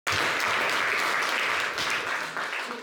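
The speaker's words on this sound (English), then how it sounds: "I will give a big round of applause to all the." Audience at a club meeting bursts into applause, a loud, dense wash of many hands clapping that starts abruptly and stays steady before easing slightly at the end.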